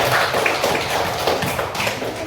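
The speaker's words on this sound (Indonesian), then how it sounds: "Tepuk tangan untuk kita semua." Classroom applause at a teacher-training session for Islamic studies in Jakarta, a steady mass of hand claps lasting the whole moment, fairly loud and dense, with no talk over it.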